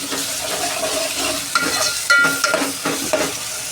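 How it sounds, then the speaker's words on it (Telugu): Ginger garlic paste frying with browned onion for a goat head curry: loud, dense sizzling close up, broken by several scraping stirs of the spoon across the pan. "ఇప్పుడు అల్లం వెల్లుల్లి పేస్ట్ వేస్తున్నా ఇది కూడా కొద్ది పచ్చాసన పోయేంత వరకు వేయించుకుందాం"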